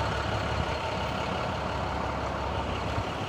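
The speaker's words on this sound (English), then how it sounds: "A little bit of mid to late afternoon traffic." Mid to late afternoon traffic passes along the road outside a small local grocery and hardware shop, heard as a steady low rumble of engines with a truck prominent in the mix. The traffic noise is continuous and moderately loud, with no talking.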